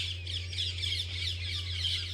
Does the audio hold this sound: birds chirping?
yes